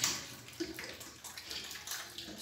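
Water splashing and sloshing while a pig is washed on a hot day, a steady wet wash of sound with a few sharper splashes, fairly close and moderately quiet, with no voices.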